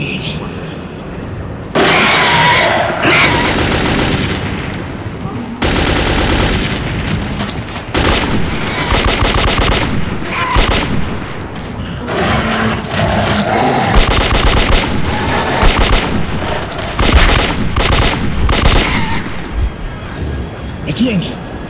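Heavy automatic gunfire in the Metro 2033 video game, with loud sustained bursts of rapid shots and occasional booms, broken by brief pauses, while voices speak over the battle.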